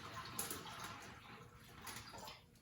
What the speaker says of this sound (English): You gently kind of pour it into the bag.